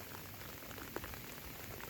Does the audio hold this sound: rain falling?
yes